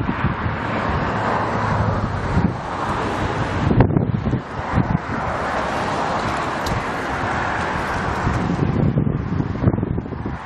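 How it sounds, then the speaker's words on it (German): Storm-force gale roaring across Düsseldorf airport, a continuous loud broadband rush with gusting swells and buffeting, no voices over it. "Auch hier am Düsseldorfer Flughafen sorgte der Orkan für äußerst erschwerte Bedingungen."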